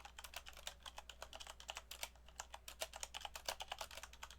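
Rapid clicking of keys on a computer keyboard, typed in quick irregular bursts close to the mic, with no voices.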